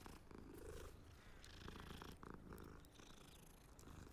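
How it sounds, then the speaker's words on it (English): A cat purrs in a wizard video game, a very faint, steady rumbling purr with no talk. "Kitty cat."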